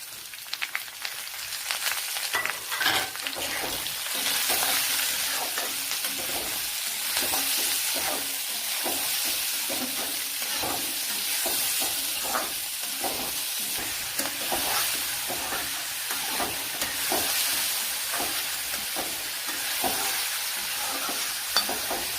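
A large cut onion sizzles and fries in a pan for bitter gourd curry, with steady crackling and frequent scraping stirs throughout, close and fairly loud, no voices.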